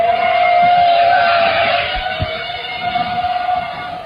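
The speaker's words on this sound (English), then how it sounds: "then you will hear the hum of drones in the sky." Steady mechanical hum with a sustained tonal whine, continuous and fairly loud throughout, evoking drones flying overhead in a sky.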